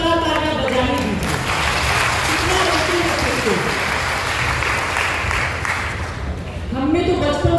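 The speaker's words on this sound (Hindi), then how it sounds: "एक बार जोरदार तालियां बजानी दीजिए।" Applause from an audience at an educational and cultural training gathering, a continuous wash of clapping with a voice audible at the edges and speech-like tones woven through.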